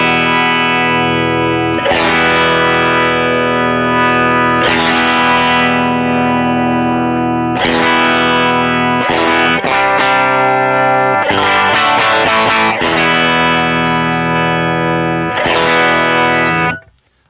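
Distorted electric guitar chords through an EQ pedal ring out in repeated strummed bursts, their tone shifting between brighter and darker as the pedal's knobs are turned, then cutting off.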